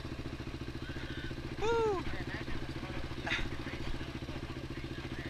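A Honda dirt bike engine drones steadily throughout, close by and rising slightly as it rides away, while a voice whoops loudly partway through.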